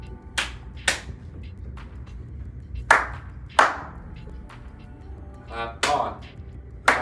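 Sharp single hand claps, spaced irregularly in small pairs, ring out in a quiet room to trigger a Clapper light switch, with a voice speaking between the claps.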